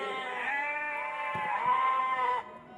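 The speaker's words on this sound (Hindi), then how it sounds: "अब वो भूखा भेड़ा" A hungry sheep tied at a doorway bleats in one long, loud, wavering call close by, dropping off abruptly near the end.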